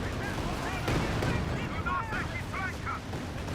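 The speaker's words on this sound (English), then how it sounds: "Great two-ship barrage here." A two-ship artillery barrage in Company of Heroes 2 rumbles in as a low, muffled, distant roll of impacts beneath ongoing battle noise, with a caster talking throughout.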